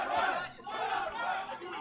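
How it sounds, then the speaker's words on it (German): Fight crowd at a boxing match cheering on both fighters, a loud mass of shouts and chatter rising in waves over about two seconds. "Jetzt das Publikum fängt an,"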